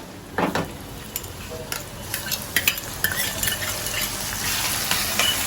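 Onion and tomato frying in oil in a home kitchen, with close sizzling and sharp clinks and scrapes of a spoon stirring against the pan, no voices.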